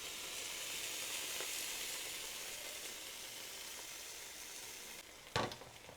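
Ingredients for Tibetan churu sizzle and fry in a pan in a steady, fairly quiet hiss. Near the end a sharp clatter cuts in, like a utensil striking the pan.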